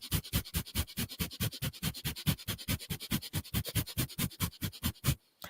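Rapid, rhythmic breaths forced in and out through the nose, about thirty even pulses at a steady quick pace, close and clear, with the final breath trailing into near silence.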